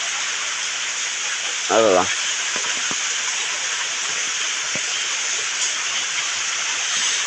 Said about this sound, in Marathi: आता मधीच वादळ एकदम जोरदार येतंय